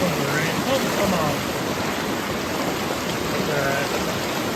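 Rain falling beside a river in Vermont's Northeast Kingdom: a steady, dense hiss of drops blending with flowing water, loud and continuous from start to end, with no talk.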